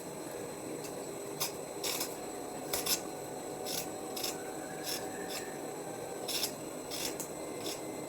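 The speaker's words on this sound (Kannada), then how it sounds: "ಇವಾಗಲೇ ಸಿಪ್ಪೆ ತೆಗೆದಿಟ್ಕೊಂಡ್ಬಿಡ್ತಿದ್ದೀನಿ, ಆಮೇಲೆ ಸಿಪ್ಪೆ ತೆಗಿಯೋ ಟೈಮ್ ಸೇವ್ ಆಗುತ್ತೆ" Potatoes being peeled by hand in a home kitchen, a faint series of short scraping rasps repeating at an irregular pace over a low steady background hum.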